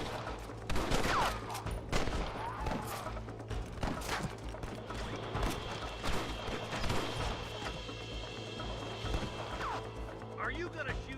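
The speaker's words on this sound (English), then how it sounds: "Are you gonna shoot any of these rustlers, boy?" Gunfire from a rustlers shootout in Red Dead Redemption, with scattered sharp shots and bursts among hoofbeats and clatter, under people talking throughout.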